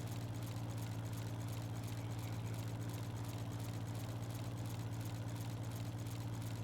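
A farm tractor engine idles steadily in the open on a farm, a constant low rumble with a strong, even hum, close by and unbroken with no talk over it.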